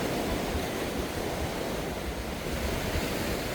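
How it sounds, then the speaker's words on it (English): Surf washing steadily onto White Sands Beach on Koh Samet, Thailand, a continuous broadband roar of breaking waves with no distinct gaps, fairly close and even in level throughout, with no talk. "This is the southern end of White Sands Beach."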